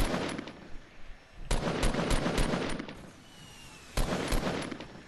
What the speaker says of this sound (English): They're shooting at me from the little wood house.